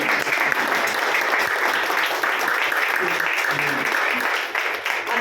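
A Women's Day gathering audience in Majalgaon keeps up sustained, dense applause, steady and fairly loud, with some voices mixed in underneath.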